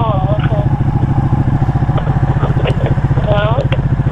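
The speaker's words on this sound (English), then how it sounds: "On my motorcycle." A motorcycle engine drones steadily in a rhythmic, pulsing throb while being ridden, close and loud throughout, with a person talking over it on a phone.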